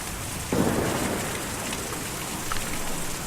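Steady, heavy rain hisses throughout in the video game Kentucky Route Zero, with a brief swell of lower rumble near the start.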